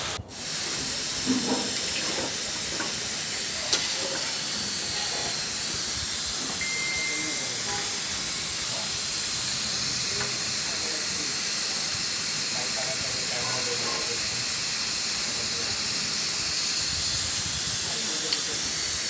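Turmeric and salt stirred into a frying pan on a home stove give a steady, broad sizzling hiss, with faint clinks of a spatula against the pan scattered across it.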